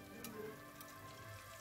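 Tempeh frying in hot oil, a steady close crackling sizzle with a few sharper pops, heard alone without talk.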